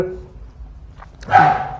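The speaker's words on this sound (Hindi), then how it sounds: "ये कुत्ता कौन भौंक रहा है?" A dog barks once, loud and close, after a quiet stretch with a faint tonal hum in the background.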